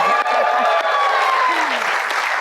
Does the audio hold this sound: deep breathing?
no